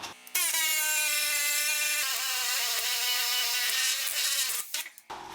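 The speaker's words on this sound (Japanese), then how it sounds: "こっちにまだボルトの頭がいるからこっち側も切り落とします" A cutting tool bites into a bolt head on a Mazda RX-7 FD3S under restoration, giving a loud, sustained high-pitched whine with a few brief dips and stutters before it stops, heard up close with no speech.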